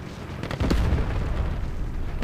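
A single deep, heavy boom from a tank cannon in the mobile game War Thunder Mobile, fired from a T-34E heavy armored tank. It rises sharply and then rumbles on as sustained low battle noise.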